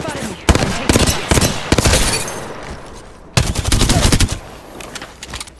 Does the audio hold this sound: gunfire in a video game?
yes